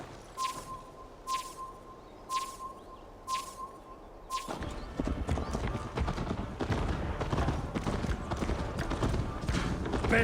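Hooves clip-clop at first in a steady rhythm over beeping tones, then a loud continuous rush of galloping and movement takes over, from a horse in the video game Assassin's Creed Valhalla.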